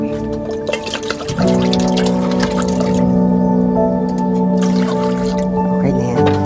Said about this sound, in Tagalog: Lalagyan ko na ng tubig.